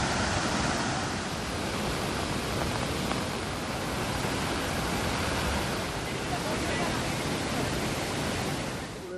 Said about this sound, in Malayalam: കാഴ്ചയുടെ ദൃശ്യവിരുന്നിനൊപ്പം ഭീതിയുടെ കുത്തൊഴുക്കും കൂടി ഇടകലർന്നതാണ് ഈ വെള്ളച്ചാട്ടം